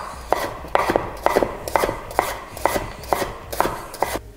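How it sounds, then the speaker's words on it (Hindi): A chef's knife chops vegetables into long strips for birista on a cutting board in a steady, quick rhythm of about eight or nine close, crisp strikes, with no talking. "एक होता है जब हम बरिस्ता के लिए कटिंग करते हैं तो आप इस तरह से काट सकते हैं"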